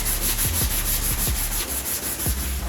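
Body filler on a vehicle panel is sanded by hand with 80 grit paper in quick, rhythmic back-and-forth rasping strokes, loud and close with no voices.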